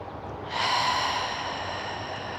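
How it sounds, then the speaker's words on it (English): A long, deep breath during a yoga shoulder mobility stretch, beginning about half a second in as a strong airy rush and then easing into a steady, softer exhale; close and alone, with no talking. "Let's take another breath here or two."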